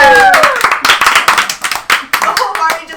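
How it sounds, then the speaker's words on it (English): A tabletop role-playing party bursts into clapping, quick close hand claps in a rising burst that fades into scattered taps, with voices mixed in under the applause. "The whole party just starts clapping like, yay!"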